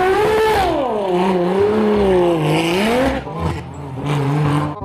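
Toy-style race car engine revving loudly up close, a wavering rising and falling whine with repeated rev surges and a brief scrape-like break near the end, no talking.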